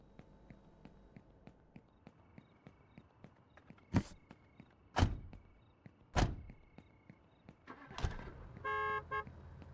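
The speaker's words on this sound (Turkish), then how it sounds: "Basma kornaya be." Car horn toots in the Fastfood Simulator video game, several loud separate blasts spaced a second or so apart over faint game ambience, with a short beeping burst at the end.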